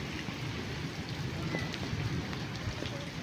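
Heavy monsoon rain pours steadily outdoors in Lahore, a dense, even wash of hiss and patter close by, with occasional louder drops spattering on surfaces and no voices.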